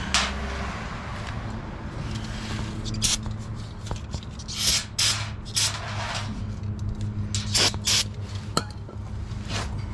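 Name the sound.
spraying brake cleaner on car parts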